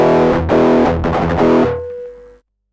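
An electric guitar played through a Horizon Devices Precision Drive distortion pedal rings out in a few loud, saturated strummed chords in quick succession, then one chord sustains and decays into silence.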